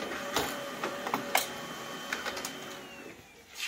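An inkjet-style printer running a carbon-texture decal sheet for a 1/18 model car roof or bonnet: whirring feed motion punctuated by sharp clicks and carriage bursts, close and moderately loud, with no talk.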